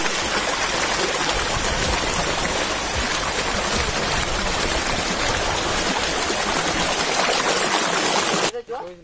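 A small waterfall pours with clear water in hilly forest country, giving a loud, continuous broadband rush that stays constant until a sudden cut near the end.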